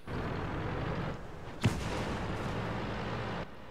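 A single cannon shot in a video game, one sharp, punchy blast midway through a constant low rumble of battlefield ambience, with no talking.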